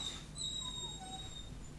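A dog whimpers in thin, high, drawn-out whines that rise and fall, faint against a low background rumble, with no talking.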